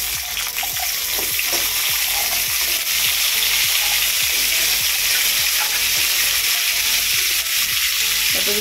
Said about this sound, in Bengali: রুটির সাথে এই ফুলকপি, আলু আর মটরশুঁটি একটু ভাজা করে নিয়ে যাব